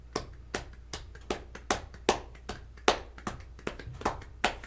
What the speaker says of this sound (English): Why are you quietly clapping? A golf clap at a comedy club?